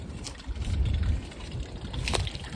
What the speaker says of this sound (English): all my fresh water is now running down the hill